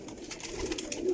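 Pigeons kept for flying, sitting in pairs, give a soft low cooing that runs steadily through a brief stretch of background hiss, with no voices.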